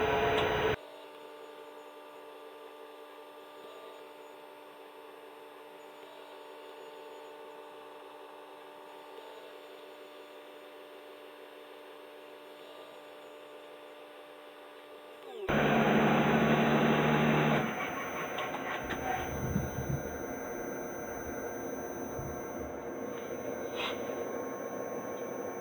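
A K&T 2D rotary head milling machine runs with a steady tonal motor hum, then a louder burst of cutting noise near the end as it works the metal, with no talking.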